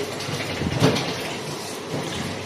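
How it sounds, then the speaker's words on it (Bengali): Vegetables are washed in water, with a short splashing swish as they are sloshed about, followed by softer trickling and rinsing. "সবজিটাকে ভালো করে ধুয়ে নেবেন।"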